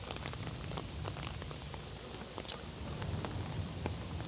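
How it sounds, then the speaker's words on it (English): Heavy rain pours steadily across Long Island City streets, a dense close patter of drops hitting surfaces with no voices. "We got caught in the rain."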